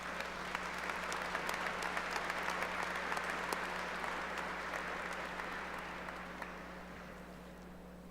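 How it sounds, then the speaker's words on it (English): Audience applause at a college award and pinning ceremony, a steady patter of many hands clapping at moderate distance that slowly thins and fades over several seconds. "please join me in giving a huge round of applause"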